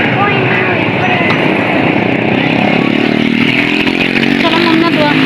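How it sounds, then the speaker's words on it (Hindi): A motorbike engine drones loudly and close, its buzzing note rising and swelling as it approaches outdoors near a park, with a voice in the background. "बाइक आ रही है"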